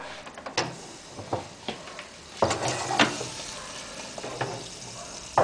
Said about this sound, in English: Then I put it down because it's only for melting the lard